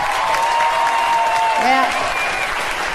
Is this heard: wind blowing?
no